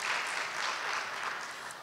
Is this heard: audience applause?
yes